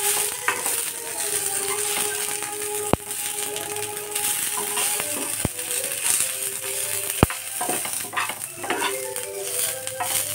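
Onion frying in oil in a pan, a constant sizzle under rhythmic stirring scrapes and a few sharp metallic taps of the utensil against the pan, close up with no speech.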